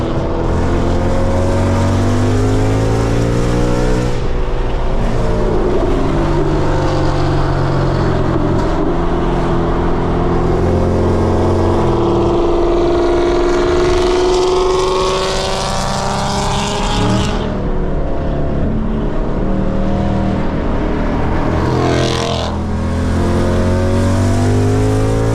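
A 2024 Ford Mustang GT V8 with a full aftermarket exhaust revs loudly up close, the engine climbing and falling through repeated throttle blips and sustained rumbling pulls, with no talk.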